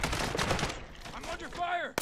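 Gunfire in Call of Duty Warzone comes as dense bursts of shots packed into the first moments, then eases into scattered bangs and game effects toward the end, with no clear talk on top.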